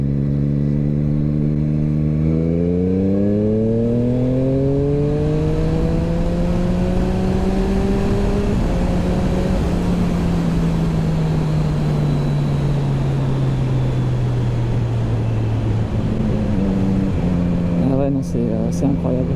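A motorcycle fitted with a quickshifter and an SC Project exhaust revs hard and climbs through gears, the loud engine tone rising, dropping and rising again, while someone talks over it nearby.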